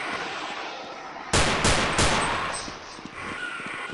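Gunfire in the game Codename 2001: three sharp, loud shots ring out in quick succession with a decaying echo, over low ambient background noise.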